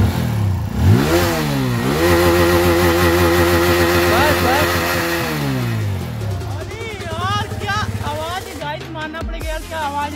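A TVS Apache motorcycle engine revs up and down close by, loud rising and falling whines repeating over a steady running rumble.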